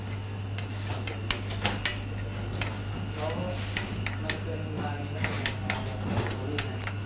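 Quick metal-on-pan scrapes and taps recur irregularly while thinly sliced shiitake mushrooms are stir-fried until dry, close up, over a constant low hum with faint background noise.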